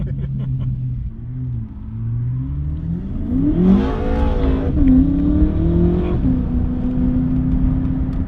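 A BMW M3 engine revs hard on a race track and climbs in pitch as it accelerates, loud and close, with the roar rising and then holding steady.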